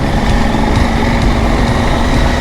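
A KTM 890 Adventure R motorcycle pootles steadily along easy country lanes, its engine a constant, fairly loud drone with wind rumble and no break in the sound.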